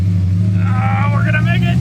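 Rough, uneven engine hum from an EFI-converted AMC AMX struggling to hold idle, heard close inside the car with someone talking over it.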